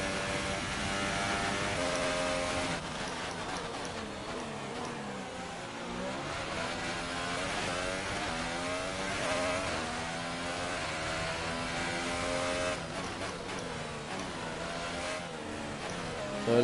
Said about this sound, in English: So just now bringing the car home